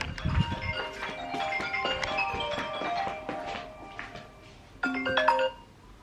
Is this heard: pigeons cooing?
no